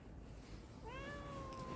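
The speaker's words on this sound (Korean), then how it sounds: "야옹 야옹 야옹 그냥 야옹" A cat meows once, a clear rising-then-falling cry close by, over a low background hum outdoors.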